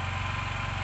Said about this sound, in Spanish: Está la moto ahí calentando un poco.